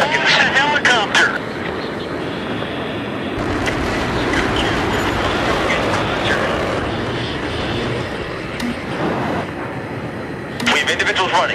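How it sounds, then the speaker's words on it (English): A helicopter in the Battlefield 3 video game flies overhead with a steady, broad rotor and engine roar that fills most of the clip, with game sounds and faint radio-style voices mixed in. "A helicopter."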